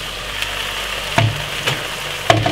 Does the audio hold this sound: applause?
no